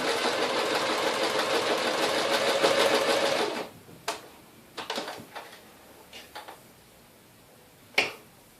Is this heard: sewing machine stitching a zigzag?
yes